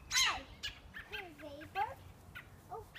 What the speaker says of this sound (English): Here's a bird.